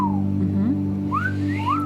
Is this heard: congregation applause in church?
no